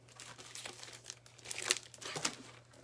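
Sheets of purple, green and silver sketch foil crinkle and rustle as they are handled, soft irregular crackles close by with a couple of sharper crinkles.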